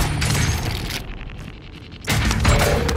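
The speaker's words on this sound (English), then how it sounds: "Ally precision airstrike incoming" Precision airstrike explosions land in Call of Duty Warzone, a loud, dense barrage of booms and crackling blasts that eases for a moment and then surges again, close and heavy.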